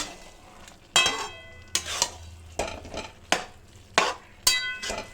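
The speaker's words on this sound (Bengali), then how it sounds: "আমি আরেকটু নাড়িয়ে দেবো" A spatula stirs bottle gourd and prawn curry in a pan, five or six sharp scraping strokes spaced about a second apart, each trailing into a soft simmering sizzle, close and clear with no voices.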